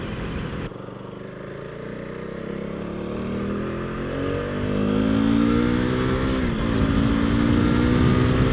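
KTM RC390 sport motorcycle engine pulling steadily through the gears, loud and close with rising revs, brief dips at each smooth shift, and heavy wind rush throughout.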